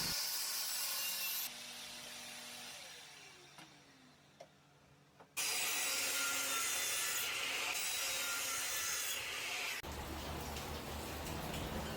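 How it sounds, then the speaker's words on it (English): A saw cutting 45-degree angles along the edges of a wooden end-grain cutting board, heard as long steady bursts of hissing, rasping noise with a quieter gap between, close and continuous. "I'm cutting 45-degree angles on the edges of my board"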